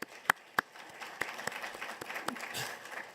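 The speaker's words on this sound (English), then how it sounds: "Give me a big round of applause" Scattered audience applause for an institute member at an industry event, a couple of loud close claps up front followed by a thinner, uneven spread of clapping from the room.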